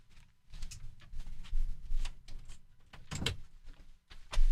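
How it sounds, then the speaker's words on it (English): An indoor door is shut, a few quiet bumps and a sharper latch-like knock among faint handling sounds, close and fairly soft. "Let me just shut my door"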